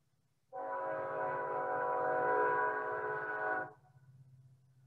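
A nearby train passes close to the tracks, sounding a loud sustained horn chord for about three seconds over a low rumbling engine, then the horn cuts off and the rumble continues.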